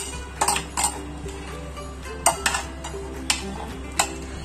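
Chinese bhel, an Indo-Chinese noodle snack, being mixed with sauce in a bowl: a spoon clinks against the bowl in irregular sharp taps, about six distinct strikes, over a low background hum.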